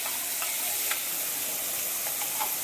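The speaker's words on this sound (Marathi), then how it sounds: "गरम तेलातच आपल्याला हा मसाला टाकून घ्यायचा आहे" Onion, garlic and ginger masala paste fries in hot oil in a kadhai, giving a steady, close sizzle with faint stirring scrapes and no talk.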